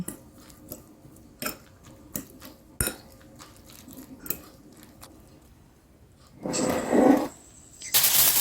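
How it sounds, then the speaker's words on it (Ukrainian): A beaten egg with salt and pepper is mixed in a bowl: scattered light taps and clinks of a utensil against the dish, then a louder, busier stretch of scraping and stirring toward the end. "І розбиваємо одне яйце. Додаємо трішки солі і трішки перчику за смаком. І все перемішуємо."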